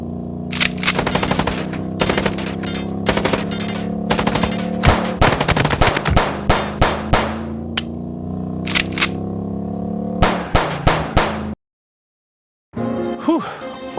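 Rapid bursts of automatic gunfire and single shots in the noir detective game Chicken Police, loud and close, crackling in dense volleys over a steady low hum before a short silence and a final burst.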